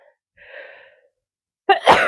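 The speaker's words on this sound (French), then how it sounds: "Je vais éternuer avec le savon, ça me fait éternuer." A single close, loud sneeze set off by soap, preceded by a brief breathy intake and a faint vocal hum, then bursting sharply at the end.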